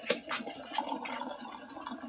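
Water is poured into kudzu root powder to mix it, giving a soft, close, continuous splashing and gurgling that lasts about two seconds with slight surges.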